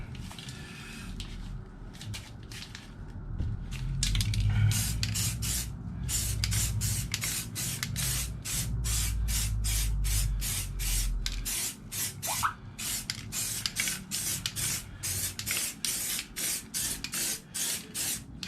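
A motorcycle wheel being spray painted, with repeated short hissing bursts from the spray can in an even rhythm, close and fairly loud over low background rumble, with no talking.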